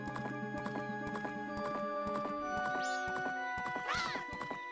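Rapid hoofbeat clip-clops of Epona galloping in The Legend of Zelda: Majora's Mask at Great Bay Coast, over a bright looping game melody, with a short whinny near the end.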